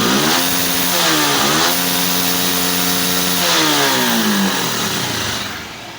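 A vehicle engine fitted with a new cylinder kit and clutch plate revs loud and close, rising and falling in pitch through several throttle blips before settling toward idle.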